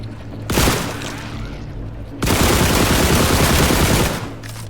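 Rifle gunfire in the video game The Last Caretaker: a short automatic burst, then a longer sustained stream of rapid shots, loud and close, over a low droning hum.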